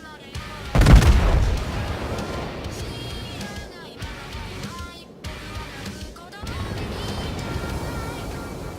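A heavy boom of battleship gunfire rings out in World of Warships, firing from the North Carolina, followed by a rumbling naval ambience with sea and engine noise, with faint voices in the background.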